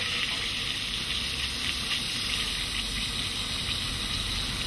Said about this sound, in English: Oh, it's all fizzing.